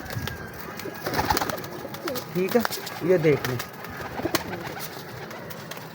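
Captive pigeons cooing in a batch of about 22 birds, soft throaty coos coming in short bursts at close range while someone talks over them.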